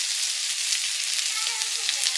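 Hot oil sizzles in a frying pan after prawns are fried for a Malabar spinach and prawn dish, a steady bright crackling hiss, close and continuous.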